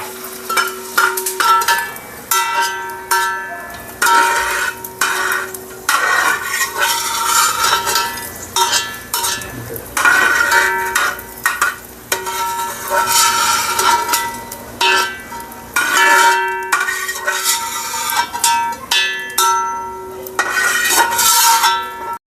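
Edible gum (dink) goes into a pan for homemade nutritious laddoos and is stirred, making a continuous sizzle under repeated scraping and clinking of a utensil against the pan, loud and close, with short pauses between strokes.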